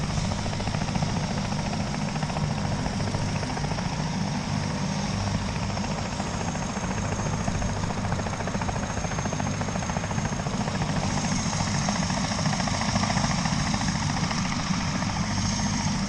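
A helicopter flies overhead just after a skydive. Its rotor drone is loud and steady, a continuous chopping roar that barely changes from start to finish, with no voices.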